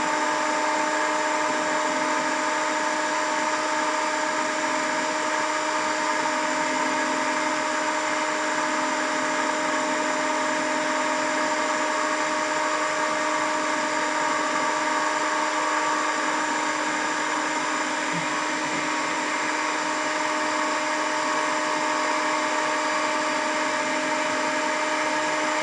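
Motor-driven alternator in a lab setup running at rated 1500 RPM gives off a constant, even electrical whine with steady tonal hum and no variation, alone without talk.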